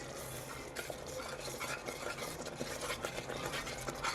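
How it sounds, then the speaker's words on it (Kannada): Spiced masala gravy for Punjabi-style dum aloo simmers in a pan while being stirred, a steady close bubbling and scraping with no voices. "ನೋಡಿ ಮಸಾಲೆ ಎಲ್ಲ ಚೆನ್ನಾಗಿ ಕುದಿ ಬರ್ತಾ ಇದೆ, ಸೈಡಲ್ಲೆಲ್ಲ ನಮಗೆ ಎಣ್ಣೆ ಬಿಟ್ಕೋತಾ ಇದೆ"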